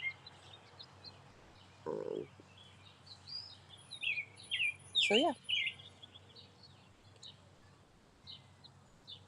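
Birds chirp outdoors in a lightly wooded area, a scattering of bright tweets and short calls at moderate distance, with a soft voice speaking briefly.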